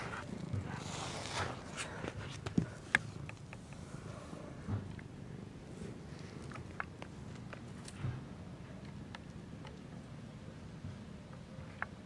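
A cat purrs in a low, soft, continuous rumble, close but faint, with scattered light taps and rustles over it.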